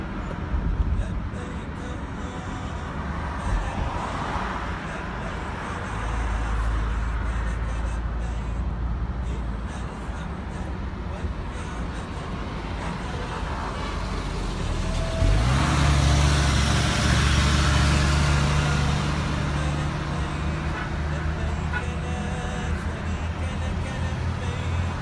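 Traffic during Hajj in Mina, where a police vehicle drives ahead of buses carrying pilgrims: a continuous engine drone and road rumble that swells and deepens partway through, with someone talking over it.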